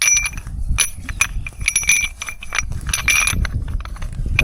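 Metal gate couplers clink and jingle together as a handful is grabbed, a quick series of bright metallic rattles and taps close by in an outdoor setting.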